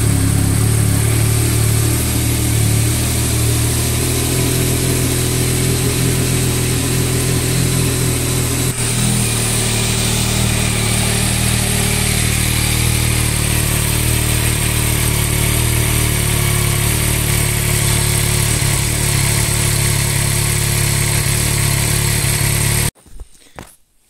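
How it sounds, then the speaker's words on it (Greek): A Yamaha Tracer 9 GT motorcycle engine idles steadily to warm its oil, a loud, close, even drone holding for over twenty seconds before cutting off abruptly near the end, with a couple of brief clunks after. "Αρχικά ζεσταίνουμε τα λάδια λίγο, βάζοντας μπροστά τη μηχανή για λίγα λεπτά"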